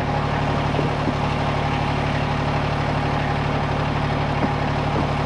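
Small four-wheel-drive tractor without chains working through snow, its engine a steady low drone held at a constant level for the whole stretch, with no talking.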